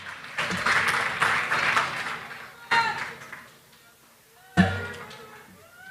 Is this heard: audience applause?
yes